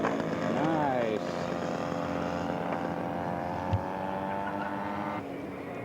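A radio-controlled scale model aircraft drones with a steady buzzing engine at a scale aircraft show, a brief rising pitch early on, moderately loud and continuous, with faint talk underneath.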